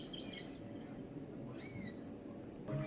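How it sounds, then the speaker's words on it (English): Recorded bird calls played from a push-button display at a volcano national park visitor center, soft hooting and chirping notes with a brief higher squawk, faint against quiet room tone. "they have so many birds here where you can actually poke the knobs and hear their sound"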